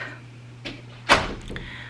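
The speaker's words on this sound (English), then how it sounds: "Close the door, please." An interior door in a home is pushed shut, giving a single sharp thud at close range, preceded by a softer bump, over a low steady hum.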